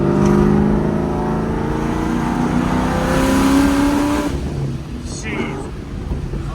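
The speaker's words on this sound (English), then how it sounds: "Let's hear that Procharger." A supercharged Mach 1 Mustang with a ProCharger P-1SC blower revs up hard, its engine note rising with blower whine around half throttle before dropping off, loud and close, with a voice talking over part of it.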